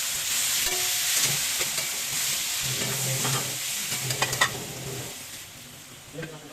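Chopped tomatoes go into onion and garlic sautéing in a pan, giving a steady close sizzle with occasional stirring scrapes and clinks.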